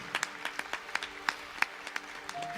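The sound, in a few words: congregation applause in church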